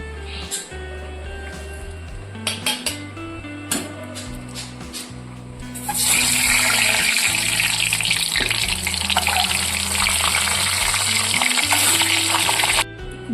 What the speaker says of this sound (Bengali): ডিম একটু কড়া করে ভেজে তুলে নিয়েছি।